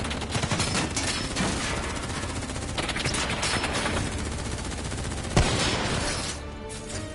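Sustained automatic gunfire from a Call of Duty Black Ops 3 firefight, dense and continuous bursts with one sharper impact near the end, no voices.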